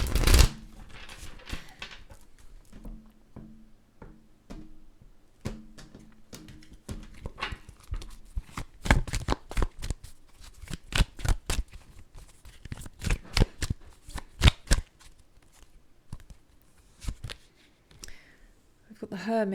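Tarot cards being shuffled and handled at close range, a long run of crisp riffling and slapping bursts, sparse at first and then dense and rapid through the middle, with soft card taps and pauses between.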